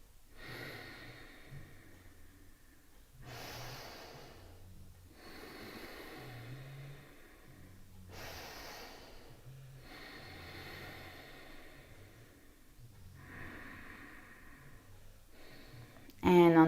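Deep yoga breaths heard as repeated airy swells, each inhale and exhale rising and falling in a slow, even rhythm over several cycles, fairly faint, with a low murmur beneath and a sudden louder noise at the very end.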